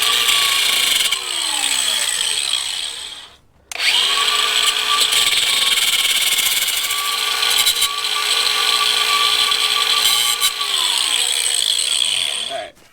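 A power tool cuts open an oily part with a steady loud grinding whine, cutting out briefly then resuming, heard up close with no talk.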